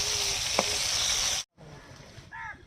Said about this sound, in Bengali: এই যে মাছগুলো নুন হলুদ দিয়ে মাখিয়ে ভাজা হচ্ছে।